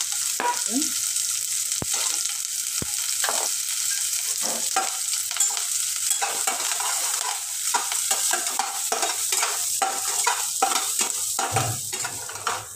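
Onion and green chili fry in oil with popping mustard seeds, a steady close-up sizzle punctuated by frequent scrapes and clinks of a spoon stirring the metal pan.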